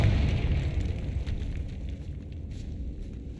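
A Confringo spell blast in a Harry Potter video game, a loud fiery explosion at the start that rumbles and crackles before slowly fading out.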